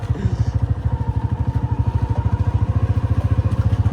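A motorcycle engine idles close by in a village, thumping in a steady, rapid rhythm that stays loud and even throughout.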